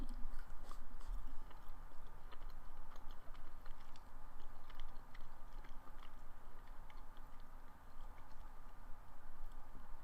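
Dried mango being chewed close to the mic, a steady soft sticky mastication with faint crunchy clicks running continuously and evenly throughout, with no talking.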